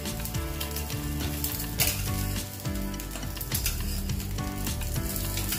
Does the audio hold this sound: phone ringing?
no